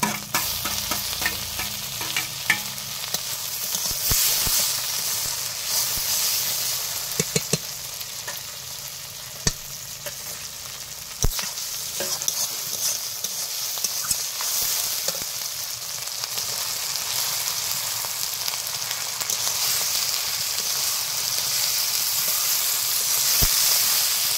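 Chicken curry cooking home-style in a pan as tomato and ginger go in: a loud, continuous sizzle and hiss of frying, broken by the clatter and scrape of stirring, with no voices.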